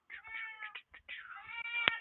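A cat meows repeatedly in a quick series of short, tonal calls, then draws out a longer wavering yowl, close and fairly quiet, ending with a sharp click.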